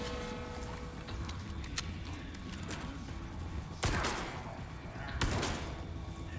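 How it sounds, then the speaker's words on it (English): Sniper rifle shots ring out in Resident Evil 4 Remake on the island: two loud, sharp cracks a second and a half apart, after a fainter earlier pop, over busy low game ambience. "Shooting him in the leg with sniper rounds."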